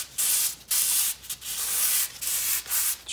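Sandpaper rubbing the finish off the back of a guitar neck: loud, close rasping strokes in a back-and-forth rhythm, about six passes with short pauses between them, no voices.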